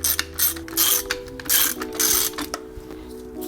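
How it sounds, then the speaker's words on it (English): A ratchet clicks in quick bursts while compressing a Bilstein B16 coilover during an install on a BMW F80 M3, close up with short pauses between strokes and no talking. "Okay, then what we're gonna do, we're gonna crank this down."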